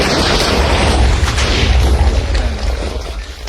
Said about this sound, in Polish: Dobra, patrzcie jak to wszystko wybucha.